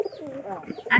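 A pigeon gives a brief, soft cooing call at a pigeon coop, close and quiet, lasting about a second.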